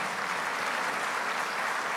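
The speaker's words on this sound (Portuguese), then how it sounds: "eu peço a todos um aplauso entusiasmado para toda a equipe de educação" Audience applause for an education team at an official bill-signing ceremony, a steady wash of many hands clapping at even loudness throughout.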